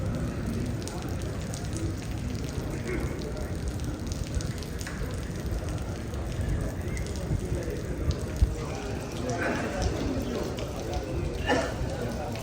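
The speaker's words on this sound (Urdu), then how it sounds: "ہوا کے ساتھ بارش ہو رہی ہے" Wind-driven rain falling on a rooftop in Madina, a steady broadband hiss with scattered drips and patters, continuous throughout with faint background sounds.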